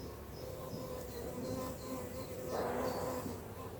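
Many honey bees buzz in a steady, dense drone close by at a hive, with no speech.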